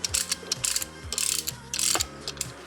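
Brake caliper spreader ratcheting as it pushes the pistons back into a front brake caliper on a Lexus GX470 or Toyota 4Runner, a close series of quick metallic clicks in short bursts.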